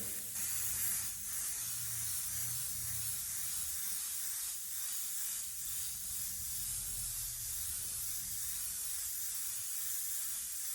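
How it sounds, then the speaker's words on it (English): Steady, continuous hiss of an airbrush spraying water-based paint over a vinyl-cut stencil design, running without pause from start to finish at an even, close level. "And spray your design."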